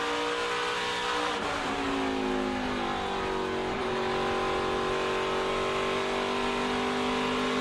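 A NASCAR Craftsman truck racing engine at Phoenix qualifying roars loudly and steadily, with the pitch dipping and climbing as the truck lifts and gets back on the throttle through a corner.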